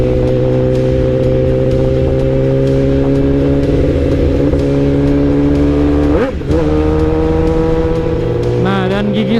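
A Kawasaki sport motorcycle engine runs loud and close with the throttle held open in a sustained, buzzing high-rev drone. The pitch dips and recovers briefly partway through.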